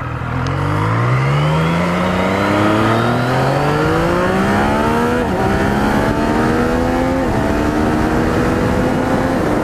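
Yamaha MT-09 motorcycle accelerating hard with a quickshifter, loud close engine whine rising steeply through gears with sharp shift breaks, continuous and strong under wind noise.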